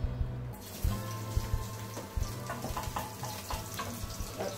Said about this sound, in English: now it seems our oil now it's hot, so we're going to start putting our garlic